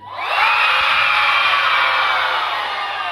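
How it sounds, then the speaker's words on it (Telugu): Schoolchildren at a children's day event shout a long, loud "oh" together, a sustained crowd yell that swells quickly and holds steady before easing slightly at the end. "అందరూ గట్టిగా ఓ అన్నారు"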